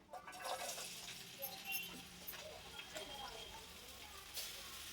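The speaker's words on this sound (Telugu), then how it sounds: "నూనె కాగిందండి, ఆనియన్స్ వేసేద్దాం" Onions dropped into hot oil for a fish curry, a broad sizzling hiss with some crackle that swells at first and then settles into a steady fry, moderately close.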